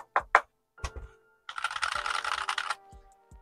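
Typing on a Redragon K617M HE magnetic keyboard with a steel plate gives a fast, dense run of bright, slightly metallic keystrokes lasting about a second, with a few separate clicks before and after.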